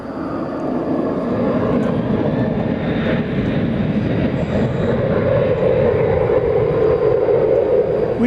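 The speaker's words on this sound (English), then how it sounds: "flight 364 to Madrid, an A330-300, is what you see there, making the turn to go to the east side for takeoff" An Iberia Airbus A330-300 jet taxis at night at DFW Airport, turning toward the east side for takeoff, its engines a steady, loud rumbling whine that holds throughout.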